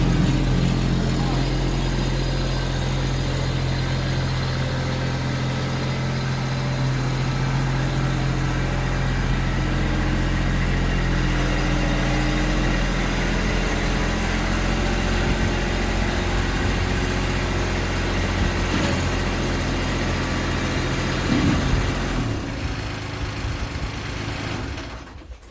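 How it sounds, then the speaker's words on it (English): A tractor engine idles steadily as it pulls into a lean-to storage shed, a continuous low rumble with a constant hum that carries on alone for most of the stretch before easing near the end. "I'm getting ready to pull in the tractor for the inaugural"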